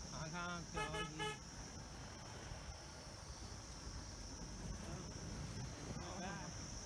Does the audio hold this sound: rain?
no